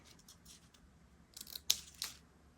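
Scissors snip through a diamond painting kit sheet, a few quiet crisp cuts and soft paper rustles building to a couple of sharper, louder snips near the end, close and without speech.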